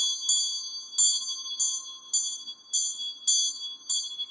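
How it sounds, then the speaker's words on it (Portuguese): A small hand bell rung in short bursts, about seven bright metallic shakes spaced roughly half a second apart, clear and close with no talking. "Eu vou até tocar o sino aqui."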